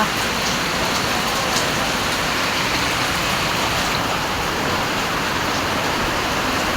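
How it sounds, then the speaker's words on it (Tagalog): Heavy rain falling behind a house, a dense, steady, loud hiss of drops drumming on surfaces close by, continuous throughout without any break. "ayan lumakas na yung ulan dito guys naabutan na ako ng ulan"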